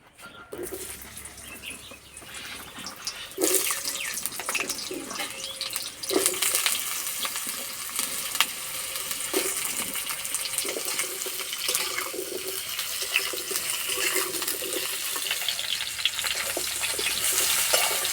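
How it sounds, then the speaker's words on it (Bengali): Potatoes frying in mustard oil in a wok: a steady broadband sizzle that starts softly, swells after a few seconds and holds at moderate loudness with occasional clinks. "প্রথমে আলু ভেজে নেব"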